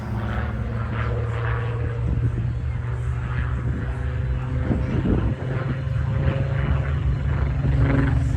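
A WW2 Supermarine Spitfire Mark 19 flies overhead, its piston engine giving a steady, loud droning roar that holds throughout with slight swells, while a voice talks faintly beneath it.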